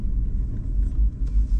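An electric car rolls slowly into a charging bay, heard as a low road rumble and tyre noise from inside the cabin, brief and steady, with no talking.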